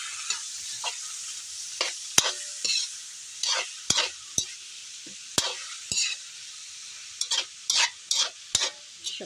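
A spoon stirs ginataang labong, bamboo shoots cooked with lemongrass and chili, in a pot, making a series of short scraping strokes with a few sharp metallic clinks against a faint sizzle.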